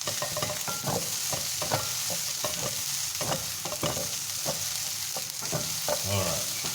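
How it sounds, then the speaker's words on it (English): Kenyan fried rice with soy sauce and sugar sizzles steadily in a pan, a close, even hiss broken by repeated scraping stirs, with no talking. "This is frying through nicely."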